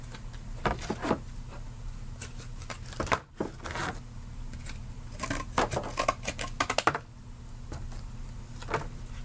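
Cardboard being cut by hand, a series of short scraping and crunching strokes in irregular bursts, some quick clusters, close by over a low steady hum.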